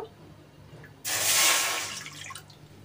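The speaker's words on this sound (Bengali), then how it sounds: "দু কাপ মতো জল দিলাম" Water pouring into a cooking pot, about two cups, for Bengali chusi puli pitha: a sudden loud splashing gush that swells, then tapers off over a couple of seconds.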